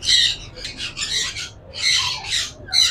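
A hand-tame Alexandrine parakeet at a Sunday bird market in Bahawalpur gives a run of harsh, close squawks in quick bursts, with short gaps between them.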